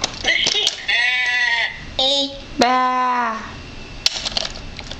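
A voice imitates a sheep, producing several wavering bleat-like calls in quick succession close to the microphone, with short pauses and a few light clicks between them.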